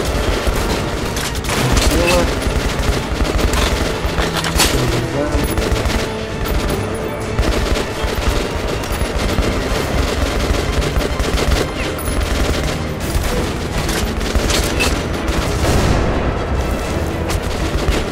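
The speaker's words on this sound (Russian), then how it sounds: "Стреляю прям туда." Heavy, continuous shooting in Metro Last Light Redux, repeated loud shots and bangs layered over a busy game soundscape throughout, with some talk mixed in.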